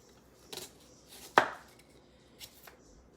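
A knife cuts halfway into a pepper on a cutting board, making a few separate chopping knocks, with one sharp, loud chop in the middle and softer cuts before and after.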